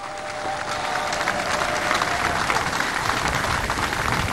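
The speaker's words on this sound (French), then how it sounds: "ça mérite des applaudissements pour notre très cher président." A crowd applauds the president at a public address, dense continuous clapping from many people filling the space, loud and steady throughout with a faint murmur of voices.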